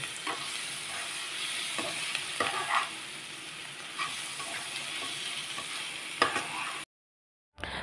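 Rava balls tossed with Maggi masala and chopped coriander sizzle steadily in a pan over a low flame, with soft scrapes of stirring now and then, before a brief dropout of silence near the end.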